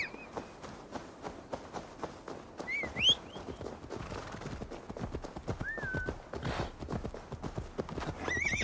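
Steady clip-clop of horse hooves trotting at a brisk rhythm in the video game Assassin's Creed Valhalla, with a few whinnies and short synthetic chirps layered over it.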